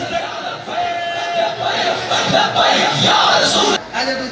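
A large crowd at a religious-political rally chants slogans in loud, surging unison, near and dense, with voices swelling and falling in waves and a sudden dip near the end.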